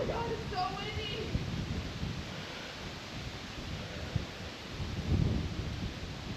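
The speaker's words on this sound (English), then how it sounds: "Oh my god, it's so windy!" Strong wind outdoors on a hillside climb, a constant roaring gust buffeting the microphone with rumbling swells, loudest near the end.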